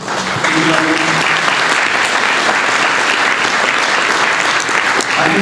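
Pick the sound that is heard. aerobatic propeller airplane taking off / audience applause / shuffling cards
audience applause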